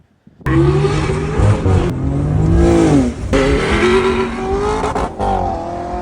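A single-turbo BMW 335i with a new aftermarket exhaust is driven hard on a spirited run, its engine loud and continuous with rising and falling revs through gear changes, close and with no talk.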